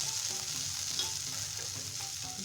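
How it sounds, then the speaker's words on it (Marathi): Pav bread coated in spicy masala roasting on a pan, giving a steady, close sizzle and frying hiss with soft scraping stir sounds running through, no voices. "खालच्या साईडने हा पाव भाजून घेऊया"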